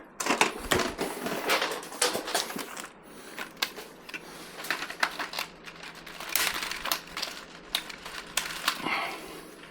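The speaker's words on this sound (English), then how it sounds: "So we'll get a zip tie ready." A plastic zip tie is pulled tight, probably while fitting hex lights in a shed, giving a run of quick, close ratcheting clicks and crinkly snaps in uneven bursts.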